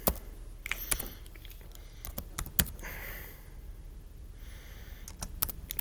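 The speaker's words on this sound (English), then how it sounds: "we'll type in right quick" Irregular keystrokes on a computer keyboard click in small bursts and single taps, fairly close, over a quiet room background.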